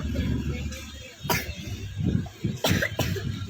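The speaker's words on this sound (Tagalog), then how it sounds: "Inuubo ng vlogger natin." A small child coughs sharply several times near the microphone, spaced irregularly over a few seconds against a low background hum.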